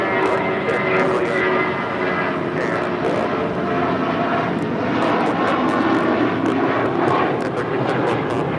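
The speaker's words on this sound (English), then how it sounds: "That was Volaris 923 taking off to Zacatecas on an A320." A Volaris Airbus A320 takes off at LAX bound for Zacatecas, its engines a loud, steady roar that fills the whole stretch with a broad rushing drone, with faint voices underneath.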